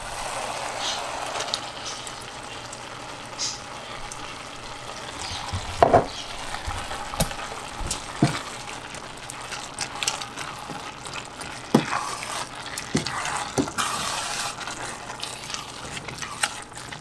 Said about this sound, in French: quand ta viande est basically cuite, tu mets ta salsa